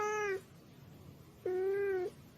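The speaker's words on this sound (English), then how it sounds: "he hears his cat meowing" A pet cat meows twice, each call a clear, drawn-out tonal cry of roughly a third of a second and half a second, close and fairly soft against a quiet background with a pause between them.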